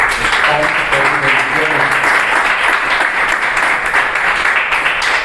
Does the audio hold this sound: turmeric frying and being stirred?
no